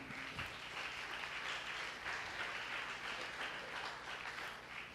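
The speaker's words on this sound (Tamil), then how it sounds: "கோகுலுக்கு நல்ல ஒரு கைத்தட்டு கொடுக்கலாமா?" A church congregation at a Tamil Sunday service claps steadily. The applause is a dense, even wash of many hands that fills the room without pause, with no talking over it.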